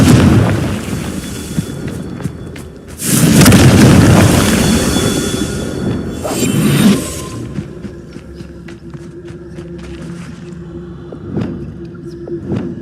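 A Confringo blasting spell explodes in Hogwarts Legacy, a loud roaring boom a few seconds in, then a second smaller blast, followed by quieter clattering, footsteps and scattered impacts.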